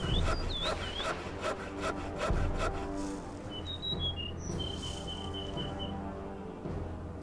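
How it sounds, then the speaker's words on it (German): A sawmill in the video game Die Siedler 3 rasps through wood in a steady rhythmic sawing loop, with bird chirps and twittering game ambience layered on top. "Ein überlastetes Sägewerk, würde ich mal hier sagen."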